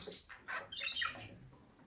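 Budgerigars squawk and chirp in an aviary fitted with nest boxes, giving faint, scattered calls that rise briefly and then trail off.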